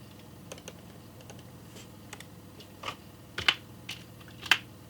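Scattered computer keyboard taps, soft at first and then a few sharper, louder clicks toward the end, close-up in a quiet room with no speech.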